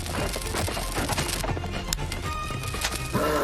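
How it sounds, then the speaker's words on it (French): Nidoking's cry from the video game Pokémon Puzzle League: a harsh, roaring creature screech within a dense, loud wash of game sound, with a sharper burst near the end. "C'est le cri de Nidoking dans Pokémon Puzzle League."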